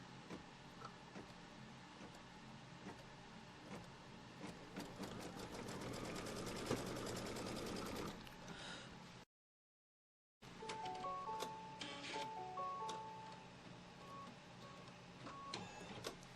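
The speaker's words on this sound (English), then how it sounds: "now it's going to stitch a line from here to here, tacking this fabric down" A computerized embroidery sewing machine stitches a tacking line to hold quilting fabric in its hoop, a fast, steady mechanical whirring and clatter that stops abruptly and then gives way to a few short electronic beeps.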